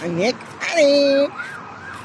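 A police car siren wails nearby at a roundabout, its rising and falling tones cut short, with a person speaking briefly over it.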